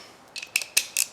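A ratchet cracks loose a 12 mm bolt on the timing-belt end of a 2004 Toyota Sienna 3.3L engine, giving several short, sharp metallic clicks in quick bursts, close and fairly quiet.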